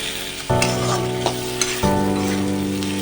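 Fish and eggplant curry fries and sizzles in a pan, with a steady loud hiss that jumps in intensity twice as ingredients are added, plus a few clinks of stirring.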